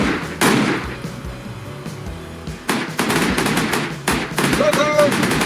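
Gunfire in the video game Dweller Hunting: loud, sharp shots and rapid bursts that crack out in clusters over a continuous noisy game background.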